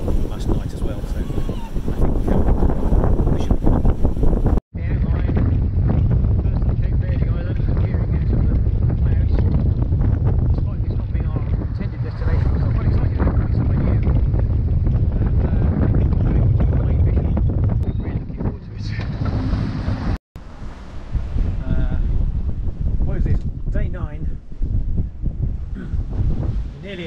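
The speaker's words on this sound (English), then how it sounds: "Still got big winds." Strong wind roars and buffets the microphone continuously on a sailboat crossing the Atlantic, a heavy low rumble with brief dropouts, suggesting rough conditions out on the water.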